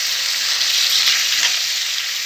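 Curry leaves fry in a pan with a dense, steady hiss and crackle, loud and close, with no talking over it.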